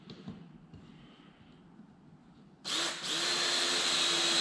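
Power drill driving coated self-tapping decking screws into wood while building a Warre honey bee swarm trap. It is quiet at first, then the drill whirs loudly and steadily from about midway to the end, near and alone.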